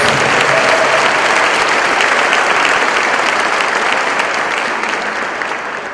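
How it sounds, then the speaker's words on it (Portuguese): Church congregation at a Sunday service applauding for Jesus, a dense, loud burst of many hands clapping together that holds steady and then slowly tapers off. "Dê um aplauso aí ao Senhor Jesus"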